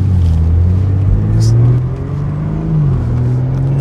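A 2024 BMW M4 Competition Convertible with xDrive and an eight-speed gearbox accelerates hard, its engine droning loud and close before dipping briefly partway through, like a gear change, then pulling on.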